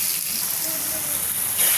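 Onions, chillies and tomatoes frying for brinjal chutney, giving a loud, steady hissing sizzle that swells slightly toward the end.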